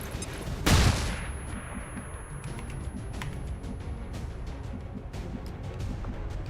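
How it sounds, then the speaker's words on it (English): A flashbang grenade goes off in the XCOM 2 strategy game, one loud sharp bang followed by a low rumbling tail that lingers under steady background game noise. "We'll flashbang these guys at least."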